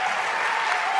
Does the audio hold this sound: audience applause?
yes